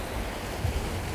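Waves wash onto a beach in a constant, rumbling roar of surf mixed with wind buffeting the microphone, loud and close, with no voices.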